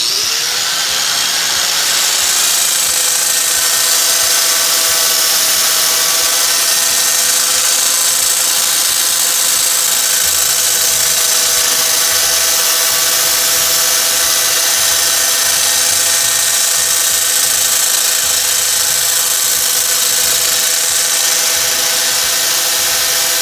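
A wood lathe spins steadily at about 1800 rpm with a loud, continuous whine and tonal hum. A workpiece with a void turns throughout, and a rougher scraping texture enters partway through.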